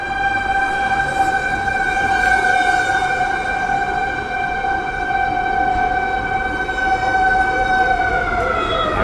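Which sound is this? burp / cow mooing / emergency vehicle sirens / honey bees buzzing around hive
emergency vehicle sirens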